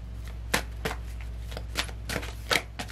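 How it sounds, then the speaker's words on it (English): Tarot cards being shuffled by hand, a series of crisp papery riffles and flicks at irregular intervals over a steady low hum. "I'm just used to flipping, so it is what it is."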